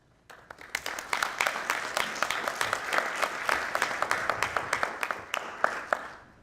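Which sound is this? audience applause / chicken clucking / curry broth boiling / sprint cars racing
audience applause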